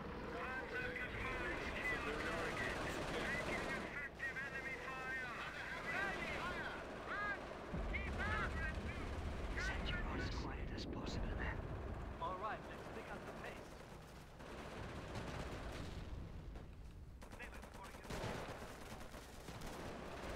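Continuous battle noise from the World War II strategy game Company of Heroes, with gunfire, rumbling engines and explosions running underneath players talking over voice chat throughout.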